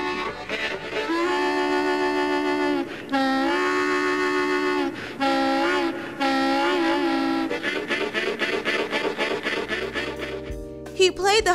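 Harmonica played to imitate a moving train, producing loud, sustained wailing chords like a whistle, then quickening into rapid rhythmic chugging pulses toward the end.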